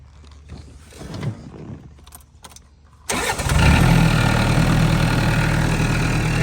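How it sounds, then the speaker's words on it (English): A tractor engine cranks briefly, catches and settles into a loud, steady rumbling idle close by, with a three-point hitch and bush hog mower attached. "I'm going to start the tractor."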